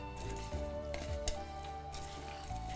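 Herbs are lightly roasted in a pan, with a soft, steady sizzle and occasional stirring scrapes, all faint and heard without talk.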